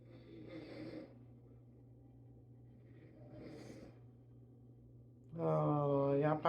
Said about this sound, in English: y'all probably hear my fiance snoring